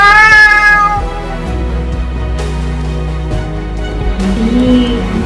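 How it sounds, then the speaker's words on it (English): A cat meows loudly and up close in a children's alphabet lesson, a drawn-out cry followed by softer mewing over light background music. "C for cat."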